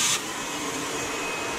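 A vacuum cleaner sucks dirt off a Toyota 1UZ V8 engine in a workshop, a steady close whooshing roar heard alone, with a brief high whine at the start.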